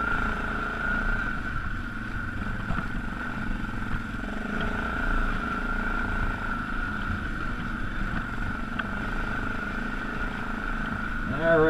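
A Yamaha Grizzly 660 ATV on a frozen, muddy trail, its engine droning at a nearly constant throttle for the whole stretch, mixed with rumble and wind noise.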